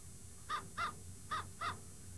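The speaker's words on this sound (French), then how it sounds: "une première corneille s'aventure devant la caméra" Four crow caws in a steady paired rhythm, each short and harsh, sounding moderately near against a quiet background, with no voices.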